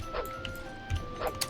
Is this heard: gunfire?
no